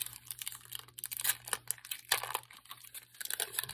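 Sheets of paper ticket stickers handled on a craft desk: soft crinkles, peeling and rustling in irregular bursts, close and quiet, with a faint steady hum underneath and no speech.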